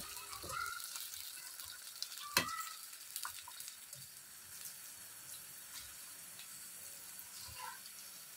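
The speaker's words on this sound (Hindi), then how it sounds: "ऑयल जब अच्छी तरह से गर्म हो जाए 750 ग्राम भिंडी डालकर फ्राई करेंगे" 750 grams of okra (bhindi) frying in hot oil, a quiet steady sizzle broken by occasional sharp crackles and clinks.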